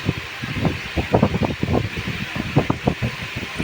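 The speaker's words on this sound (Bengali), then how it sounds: "আমাদের খাটের তলায় দেখো টেবিল ফ্যান চালিয়ে বসে আছে" A table fan set on the floor under a bed whirs steadily through a hot afternoon, with a ceiling fan also running; the airflow is loud and close and gusts in uneven puffs.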